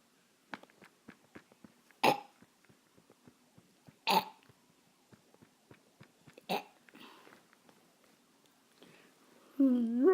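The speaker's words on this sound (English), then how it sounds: "Now here we go with the burping." A baby is burped after feeding, with small taps and soft sounds punctuated by three louder burps or coughs spaced a couple of seconds apart, close and otherwise quiet, ending with a brief vocal sound.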